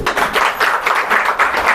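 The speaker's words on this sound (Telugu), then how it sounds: "చప్పట్లు కొట్టండి నాన్నకి." An audience applauds a father, giving several seconds of close, even, rhythmic clapping from a group with no talking over it.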